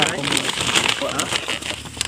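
Heavy rain pours down in a dense, continuous patter close by, while a person talks over it.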